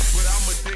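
A steady, loud hair spray aerosol hisses continuously for under a second, close up and uninterrupted.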